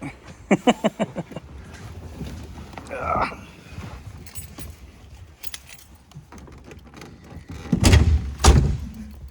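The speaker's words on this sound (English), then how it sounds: "Couple of rattles in the door." Rattles from a car door, a burst of light metallic clatters early on, then scattered small knocks and a louder thumping rattle near the end, close and sharp, with a voice speaking briefly.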